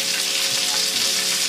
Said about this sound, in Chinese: 像这样煎鱼，这个鱼它就不容易烂